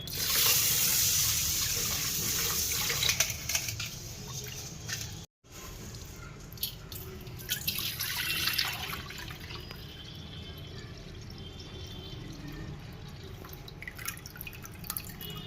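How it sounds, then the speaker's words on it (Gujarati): Rice is washed with water for dhokla batter, heard as splashing, dripping and trickling water with wet swishes close by, a brief break partway through, then lighter drips and rinsing continuing. "હજી આપણે એક પાણીએ ધોઈ નાખીશું ચોખા"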